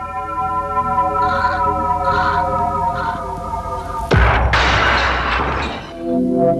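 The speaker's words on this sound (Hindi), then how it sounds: "शीशा टूट गया।" Glass shatters indoors in a sudden loud crash after a few seconds of low humming background, followed by a brief spray of breaking fragments that quickly fades.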